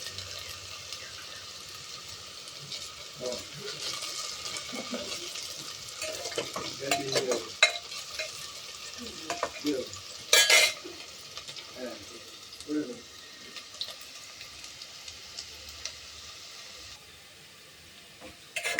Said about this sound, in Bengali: আলুগুলো ভাজা ভাজা হচ্ছে